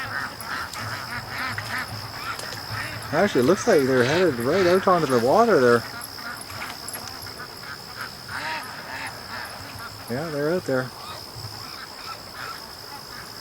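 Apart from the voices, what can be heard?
ducks quacking on the water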